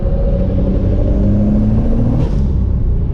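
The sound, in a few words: Toyota MK4 Supra accelerating through a corner, turbo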